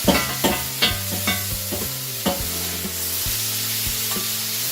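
A steak sizzles on a grill with a steady, bright hiss, joined by a few soft knocks early on and sustained tonal notes running underneath.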